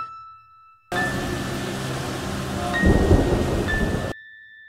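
Heavy rain pours in a dense, loud wash while a deep rumble of thunder rolls in and builds toward the end, then cuts off abruptly.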